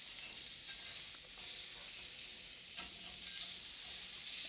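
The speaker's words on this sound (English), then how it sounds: "Let me go flip these steaks over. Should have a nice sear." Steaks sear in a hot pan after being flipped, giving a continuous bright, hissing sizzle that holds steady and close throughout, with no voices over it.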